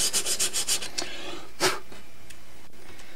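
Rigid 100-grit sandpaper scrubbing Bondo filler on a model submarine hull, heard as a quick run of rhythmic rasping strokes, then one longer stroke, then quieter scraping.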